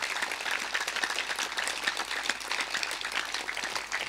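An audience at a spiritual talk claps for itself, a dense, continuous burst of many hands at fairly close range, with no voices over it.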